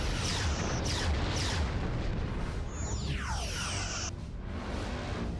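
Torpedo hits bursting against a starship hull in a Star Trek space combat game, with dense, continuous booming explosions and sweeping sci-fi weapon effects, loud and unbroken, no voices.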